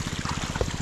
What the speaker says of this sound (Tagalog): Ang lakas ng tubig dito, guys, dahil hindi ganong paakyat.